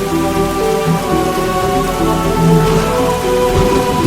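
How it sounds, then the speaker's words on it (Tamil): Heavy rain pours steadily onto surfaces outdoors, a dense, loud, continuous hiss with a faint low rumble underneath and no voices. "மழை பெய்யுதுல்ல"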